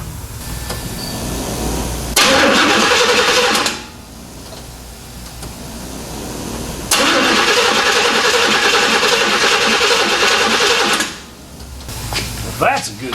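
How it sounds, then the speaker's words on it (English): A Chevrolet C10 square body truck's starter cranks in two loud, sustained bursts of a second or more each, separated by quieter shop background, as the truck is tried for its first start. "Let's see if the starter works,"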